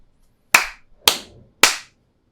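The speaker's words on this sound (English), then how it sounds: "Let me do some claps" Three sharp hand claps, evenly spaced about half a second apart, close and loud in an otherwise quiet room with no talking.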